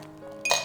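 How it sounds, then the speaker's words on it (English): Ice cubes clink and rattle as they drop into a glass for a mint masala lassi, a short bright clatter after a moment of near silence. "ice cubes, some mint leaves and the lassi."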